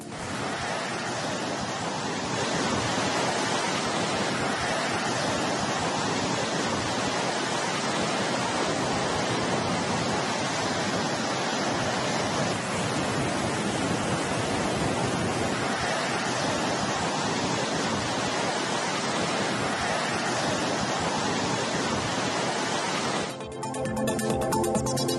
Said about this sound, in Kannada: ಇತ್ತ ಜೋಗ ಜಲಪಾತ ಕಣ್ಮನ ಸೆಳೀತಾ ಇದೆ.